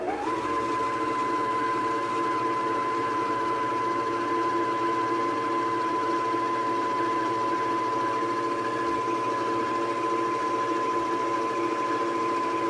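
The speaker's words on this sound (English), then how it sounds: "I'm going to put my foot down on the pedal and we're going to wind the bobbin." A sewing machine runs fast and continuously while winding a bobbin, giving a steady high motor whine with a constant pitch that starts abruptly and holds unchanged for the whole stretch, with no talking.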